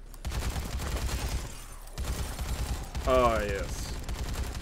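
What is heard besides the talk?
gunfire shooting zombies in video game Dead Rising 3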